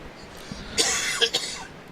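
A person coughs close up, a short burst of two or three rough coughs in quick succession against a quiet background.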